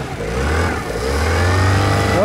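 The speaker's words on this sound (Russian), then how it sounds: "Движуха кончилась, пока заводим мотор." A Yamaha outboard boat motor starting among reeds, a low engine rumble that builds steadily and revs up, loud and close throughout.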